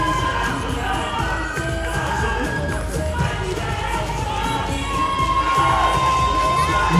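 A loud, close crowd at the 2017 Musclemania Paris bodybuilding contest claps, cheers and shouts in a continuous roar, with high whoops and excited yells over the applause.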